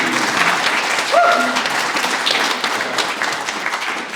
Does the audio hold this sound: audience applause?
yes